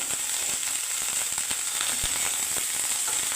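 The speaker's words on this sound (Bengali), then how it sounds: "ওই তেলে আমি ফুলকপিটা কষে দেবো আর একটু অল্প তেল দিয়ে" Cauliflower frying in a little leftover oil from fried rohu fish, with fresh oil added: a steady, dense sizzle with scattered pops and crackles, close and continuous throughout, no voices.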